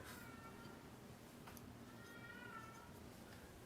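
A house cat gives a few faint meows in a quiet indoor room, soft and distant against low background hiss, with no talking.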